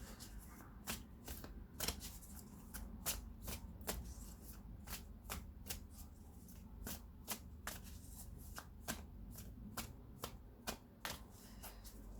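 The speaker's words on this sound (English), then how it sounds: "Let me just shuffle them even more." A deck of playing cards is riffle-shuffled over and over at close range, the quick fluttering bursts coming in a fast, fairly regular rhythm against a faint background hum.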